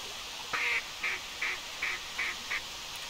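A gadwall duck in theHunter Classic quacks six times in a steady rhythm, short raspy calls standing out above a constant outdoor hiss of wind or water.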